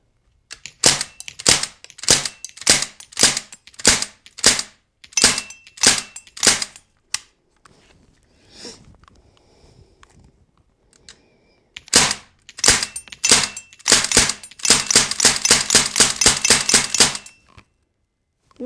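An air gun fires .177 caliber pellets into a Target Forge pellet trap. About two dozen sharp, loud snapping shots come in quick, fairly regular strings, with a short quiet pause between the two bursts.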